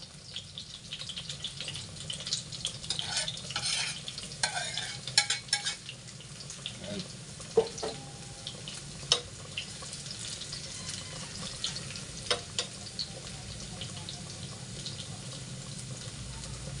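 Garlic sautéing in a clay palayok: a steady, close sizzle broken by soft clinks and scrapes of stirring, with faint running-water hiss throughout.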